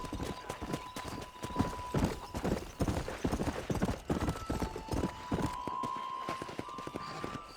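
A horse gallops in the Red Dead Redemption video game with fast, rhythmic clip-clop hoofbeats that run steadily throughout. Faint tones and light game sounds sit underneath.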